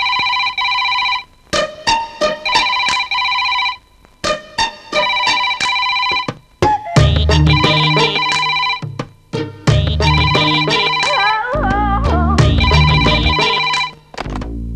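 A telephone rings loudly in repeated electronic bursts, stopping and starting with short gaps, later joined by heavier low tones and a warbling line as the ringing continues.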